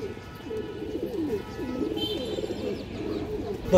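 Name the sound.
silver bagha female pigeon cooing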